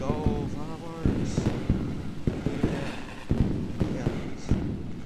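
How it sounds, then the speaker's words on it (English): Fireworks go off in a racing video game after a truck series championship at Nashville Superspeedway, a run of sharp pops and thumps at a steady pace under players' chatter. "Let's go, fireworks."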